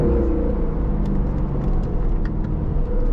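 An Aston Martin Vantage with a 4-litre twin-turbo V8 rumbling steadily at close range, a deep continuous engine drone with a faint whir layered over it, with no voices.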